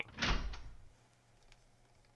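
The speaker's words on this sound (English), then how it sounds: "The door is still locked." A locked door rattling in a video game, one short sharp clatter near the start that fades quickly into quiet room tone, close and fairly soft overall.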